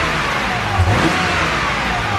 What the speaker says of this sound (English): do a couple revs for you guys to see if there's any difference